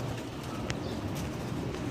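Pigeons cooing on a rooftop loft, low soft rolling coos repeating close by over a busy murmur of birds, with a brief higher chirp cutting through once.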